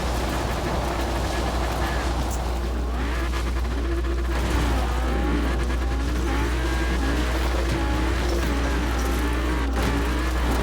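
A car climbing a mountainside in a video game, its engine holding a steady drone that rises and falls as the revs change, with constant rumbling over rough ground throughout.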